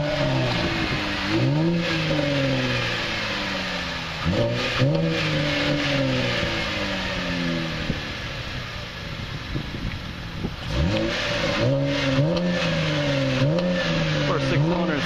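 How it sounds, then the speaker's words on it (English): A 2012 Chevrolet Camaro LS with a V6 is revved repeatedly at the dealership, each loud rise and fall of the exhaust note standing out clearly. Wind buffets the microphone between the bursts. "Nice demonstration of the V6."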